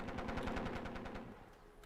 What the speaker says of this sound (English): We just got strafed by a BF-109, I think it was